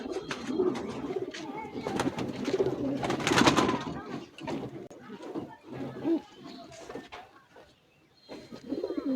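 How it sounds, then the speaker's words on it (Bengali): Giribaz racing pigeons coo repeatedly at close range on a pigeon farm, with bird calls layered through a busy background and some voices talking now and then. "এই যে আরেকটা কবুতর আছে"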